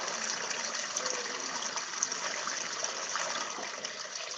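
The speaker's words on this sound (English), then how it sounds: "As we walk along, we hear the sound of water." Water in a rocky creek flows steadily with a constant broad rush, close and fairly loud, with no voices over it.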